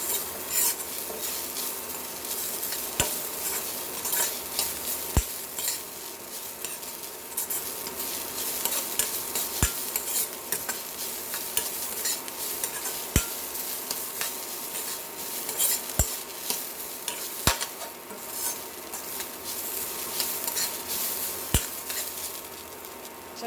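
Bitter gourd being sautéed in a pan for chutney, steady scraping and stirring over a faint sizzle, with sharp ladle clicks against the pan every few seconds, close and continuous.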